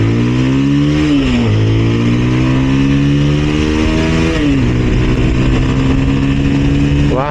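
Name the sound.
Bajaj Pulsar 220F motorcycle accelerating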